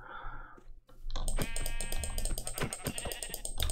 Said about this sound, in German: Hier ist ein Schaf in die Minen gerannt.